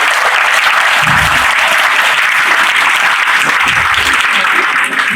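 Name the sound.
audience applauding students at science fest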